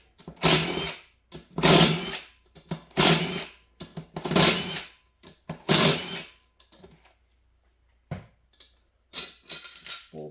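Power tool, likely an impact driver, removing bolts from a beadlock drag racing wheel, heard as five loud, evenly spaced bursts close by, followed by fainter clicks and handling noise.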